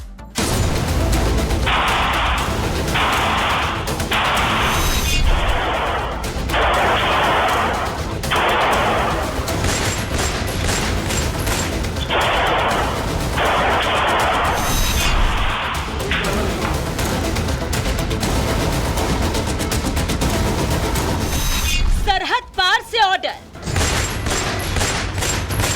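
Loud, repeated bursts of rapid gunfire come from a shooting in Delhi where businessmen were targeted. The shots crackle in dense volleys separated by short pauses, then give way to quieter rumbling toward the end.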